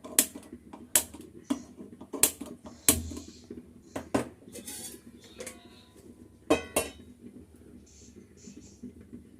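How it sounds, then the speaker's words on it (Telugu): Metal cooking pans clank and clink onto a lit kitchen stove, a series of sharp separate knocks and rattles at close range spread over several seconds, with a quiet hum beneath. "స్టవ్ వెలిగించి బాండ్లు పెడదామండి."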